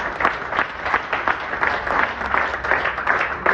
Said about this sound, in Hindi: एक बार उनके लिए तालियां हो जाएंगी जोरदार।